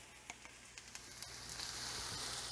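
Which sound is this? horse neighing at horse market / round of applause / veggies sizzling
veggies sizzling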